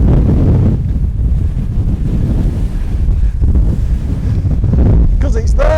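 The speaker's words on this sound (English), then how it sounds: "Told you it'd be windy on the top." Strong wind buffets the microphone in a constant heavy roar on a mountain summit in the Lake District, with a brief whistling gust near the end.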